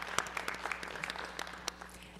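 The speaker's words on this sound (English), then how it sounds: "Oh, we can clap." Scattered, sparse clapping from a small audience at a school board meeting, a few distinct hand claps spread over a couple of seconds at modest loudness in a quiet room.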